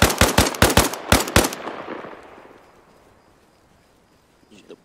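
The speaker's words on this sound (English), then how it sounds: "Any clue where that gunfire was coming from?" Automatic rifle fire in the online shooter Arma Reforger crackles in two close, rapid bursts, then fades into a long reverberant tail and near silence.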